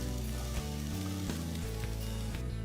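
Finely chopped onions sizzle in a kadai with about two teaspoons of hot oil, a loud, continuous crackling fry with a low hum and occasional clinks underneath, and no talking.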